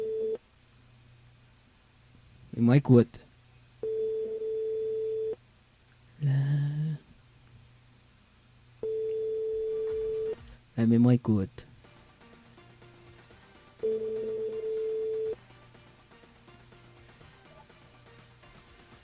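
Telephone ringing tone while a French radio show calls a listener through the switchboard, evenly spaced tones with gaps, as a presenter talks over it between rings.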